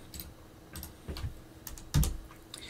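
Short burst of typing on a computer keyboard while entering a build command in a terminal, about eight separate clicks and key taps in an irregular rhythm, close and clear with no voices.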